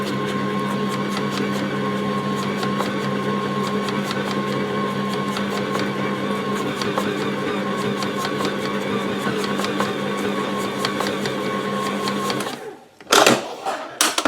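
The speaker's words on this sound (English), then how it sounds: "we're just going to mix this on slow, and we're only going to mix it for just a second" An electric mixer whirs on slow speed through banana cake batter, a steady mechanical hum that lasts about twelve seconds and then cuts off, followed by a few clunks.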